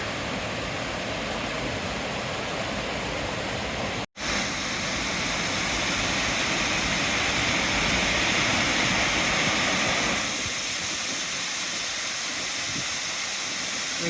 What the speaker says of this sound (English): It's quite the waterfall.